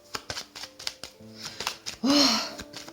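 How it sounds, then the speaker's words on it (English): Deck of tarot cards given a vigorous shuffle, rapid crisp riffling and tapping bursts up close, ending in a louder flurry of card noise, with no speech over it. "I want to give this a really good shuffle."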